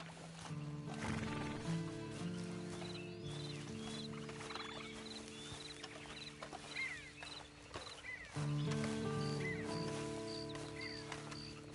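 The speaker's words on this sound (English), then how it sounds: "Then you better get on this horse." A horse in the Red Dead Redemption 2 Online video game whinnies and snorts close by, with hooves clip-clopping and faint birds calling over steady harmonic ambience, loud throughout with no talk.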